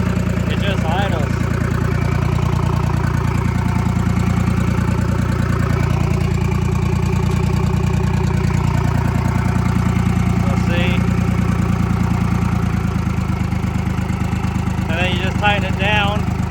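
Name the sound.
Detroit Diesel 3-53 two-stroke engine idling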